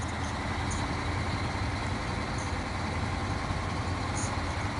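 A heavy truck engine in the off-road game SnowRunner, a steady low rumble idling and droning evenly throughout with no changes in pace, loud and continuous with no talking.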